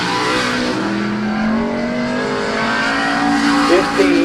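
The number 75 race car roars around Midvale Speedway on a qualifying lap, a loud, continuous engine drone whose pitch climbs and wavers as the car pushes on.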